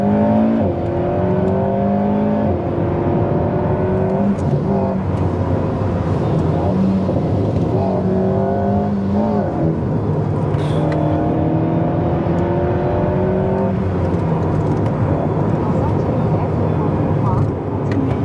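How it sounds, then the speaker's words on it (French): Alpine A110 R rear-mounted engine roaring under acceleration through gear changes, rising and falling revs with pops on shifts, heard from inside the car, loud and continuous with someone talking over it. "il y a vraiment un espèce de brouhaha avec le moteur à l'arrière"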